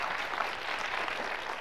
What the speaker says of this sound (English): A round of applause for Solicitor-General Sherry Boston.